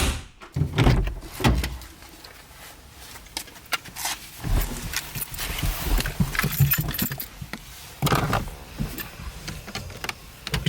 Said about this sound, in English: just close the door slowly